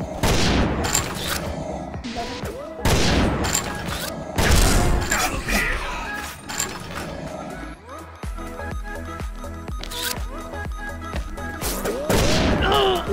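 Gunfire in the online shooter game XSHOT, repeated bursts of shots and mechanical clatter spread across the stretch, mixed with game noise and occasional talk.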